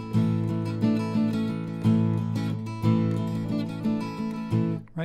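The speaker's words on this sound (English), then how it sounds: "If I play it as an open position chord, it sounds like this." A sus4 chord strummed on guitar in open position with open strings ringing, about six even strums close up, each sustaining into the next, played alone without speech.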